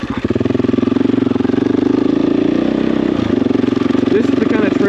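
A 501 dirt bike engine on a shared trail, running close and loud with a steady mid-pitched chug, under a voice talking, with a touchy throttle.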